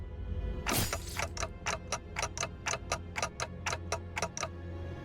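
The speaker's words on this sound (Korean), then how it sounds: "찌깍거리는 소리만 들리네." Rhythmic ticking from a creature's clock-like head in the game Limbus Company, a steady series of sharp, evenly spaced clicks heard alone after a brief rustling swell at the start.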